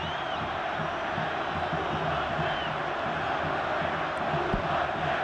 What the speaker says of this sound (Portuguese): a torcida do São Paulo está aí